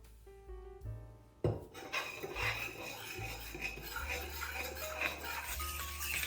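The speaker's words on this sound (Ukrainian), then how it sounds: "Візьмемо ложку та перемішуємо." A spoon stirring batter of milk, sugar, flour and yeast in a bowl, with continuous rasping strokes after a sudden start, over a faint background hum.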